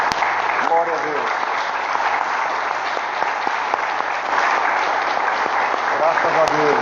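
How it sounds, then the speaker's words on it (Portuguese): A church congregation applauds together during a worship service, steady dense clapping that fills the room and continues unbroken throughout. "Vamos aplaudir ao nosso Deus em nome de Jesus."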